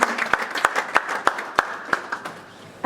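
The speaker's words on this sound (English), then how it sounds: "Can we clap our hands together for all the servants of the A.T.C.?" An event audience claps hands together, a rhythmic unison clap of sharp, evenly spaced beats about three per second over a softer bed of scattered clapping, fading out toward the end.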